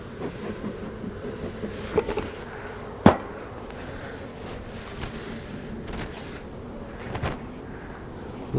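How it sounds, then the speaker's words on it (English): Honey bees buzz in an open beehive during a swarm-prevention check, a faint, steady hum with a few soft knocks and handling sounds nearby. "there's so many bees in here, they haven't swarmed yet"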